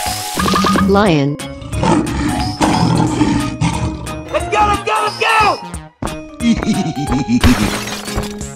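A cartoon lion gives a roar among bright, busy musical and animated sound effects, loud and layered, with a brief break near the middle before the noisy soundtrack resumes.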